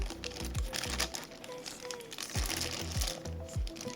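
A plastic parcel from AliExpress is opened by hand with close, irregular crinkling and rustling, plus a few sharp crackles and thumps.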